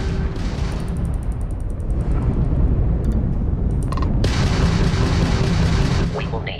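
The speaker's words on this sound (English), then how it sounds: "that's a Crimson Fleet ship bringing its weapons to bear" A Crimson Fleet ship opens fire in space combat within a video game, heavy booming weapon blasts rolling over a constant low engine rumble, with sharp mechanical clicks and beeps layered on top.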